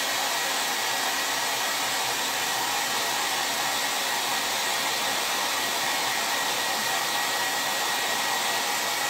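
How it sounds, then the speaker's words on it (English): Hair dryer blowing steadily on a painted T-shirt, a loud, constant whooshing roar that holds for the full duration, close by and without talk. "Okay, I'm gonna blow dry it so it's about to get loud."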